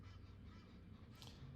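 Geese honk in short, faint calls over a low steady background rumble, with a slightly clearer honk near the end of the brief stretch.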